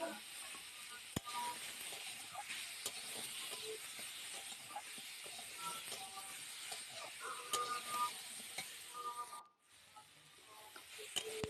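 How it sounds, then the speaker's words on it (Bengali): Raw mango pieces with turmeric and salt fry in a pan with a steady, faint hiss and sizzle throughout, broken by a few small clicks and a brief dip near the end. "তো দেখুন আমটা কিন্তু আমার হালকা হয়ে ভাজা হয়ে এসছে।"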